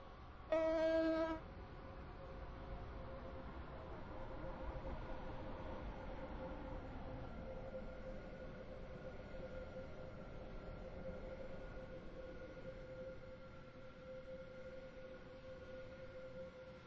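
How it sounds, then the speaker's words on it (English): A train pulls into a platform in the Roblox SCR railway game, arriving as a service from Stepford Central. A short electronic chime opens the scene, then a steady rolling rumble with a faint whine carries on unbroken, fairly loud and close. "The train now approaching Platform 8 terminates here."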